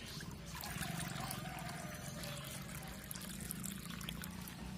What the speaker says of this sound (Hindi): चलिए व्यूअर्स, हमने पानी इनका भर दिया है